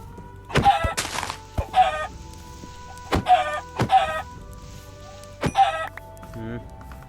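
Minecraft chickens cluck in short bursts of several sharp calls, spaced across the scene with gaps between them, close and clear over a quiet game background with faint tones.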